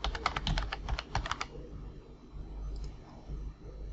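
Computer keyboard typing a text entry while working in QGIS: a quick burst of about a dozen crisp, close keystrokes over the first second and a half, then a quiet room with no talking.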